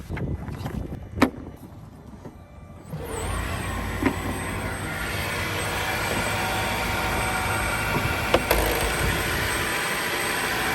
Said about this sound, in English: Let's open the hood and see if the Wrangler starts.